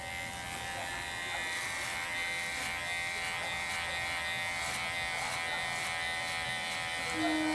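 Electric hair clipper fitted with a number 2 guard cutting hair in a fade haircut, a steady close buzzing hum that runs without a break for the whole stretch.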